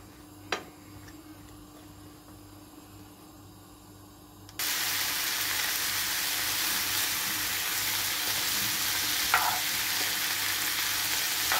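Zucchini sizzling and frying in a pan with no water added, starting as a quiet faint simmer, then jumping to a steady loud hiss of frying partway through, with a few clinks of a utensil.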